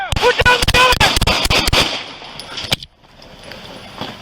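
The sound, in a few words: gunshots fired during a police shootout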